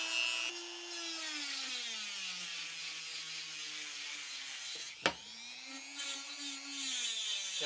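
A Dremel rotary tool whines steadily at speed while sanding paint out of tight crevices, its pitch sagging and recovering as it bears on the work, with one sharp click midway.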